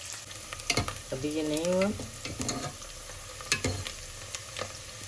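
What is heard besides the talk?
meat and potatoes browning in a pan for aloo gosht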